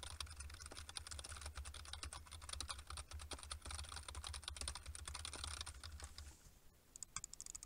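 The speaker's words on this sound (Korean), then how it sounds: "우선 기본 상태에서 키보드와 마우스 버튼을 눌러보도록 하겠습니다" Keyboard keys and mouse buttons clatter in rapid, dense bursts through a gaming headset microphone, close and continuous under a low background hum, ending in a few scattered clicks.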